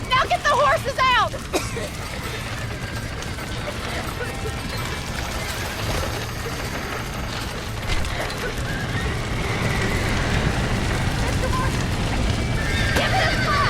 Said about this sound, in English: Now get the horses out!